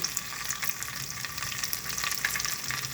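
Whole spices and garam masala sizzle steadily in hot oil in a pan, a close, constant hiss with small crackling pops. No one talks.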